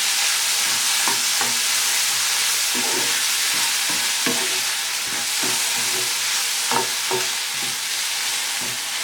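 Onions, tomatoes and garlic frying in a pot, a loud continuous sizzle close up with a few scraping stirs breaking through at intervals.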